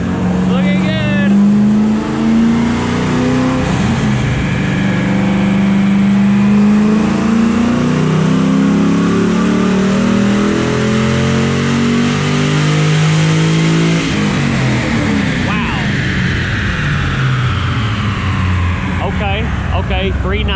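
A car engine revs hard on a dynamometer during a power pull, its loud rising drone climbing in pitch, easing off and then building again, with voices talking over it.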